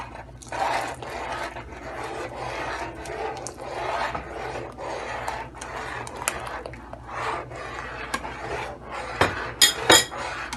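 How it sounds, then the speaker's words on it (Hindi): Rice and milk kheer stirred in a pot over medium-low heat, a close, repeated scraping and rubbing of the spoon against the pot in uneven strokes, ending with a few louder clinks. "और चलाते रहेंगे।"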